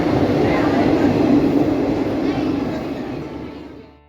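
A train rumbles past a station platform close by with a loud, steady roar that gradually fades as it moves away.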